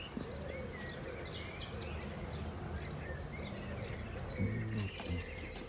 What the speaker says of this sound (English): Listen to the birds, they're going mad today.